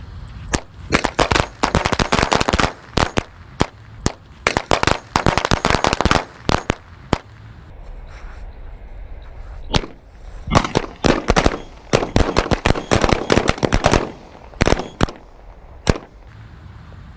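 Korean-type firecrackers exploding inside a water gallon: loud, rapid crackling bursts in two long volleys separated by a brief lull, then a few final pops, with no talking.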